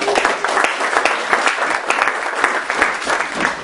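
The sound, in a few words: applause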